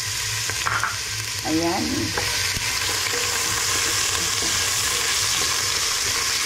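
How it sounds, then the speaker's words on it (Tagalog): Ginger sautéing in a hot pan for a pork dinuguan, giving a steady loud sizzle with brief stirring scrapes and a short spoken word near the start. "O magigisa na tayo ng ating luya."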